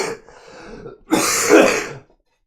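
A single close throat clearing, then a harsh, raspy cough burst, with no talking.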